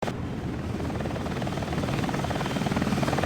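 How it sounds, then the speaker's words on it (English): Helicopter flying in a scene recreated from Sonic Adventure 2 for the Sonic movie 2, a steady close rotor thump and engine drone that grows slightly louder, with no talk over it. "this is the helicopter that they are recreating from Sonic Adventure 2"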